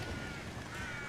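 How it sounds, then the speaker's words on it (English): Crows cawing in a video game quest near an abandoned estate, a faint harsh call drawn out over steady outdoor ambience, fairly distant and alone without talk. "Some conspicuous crows."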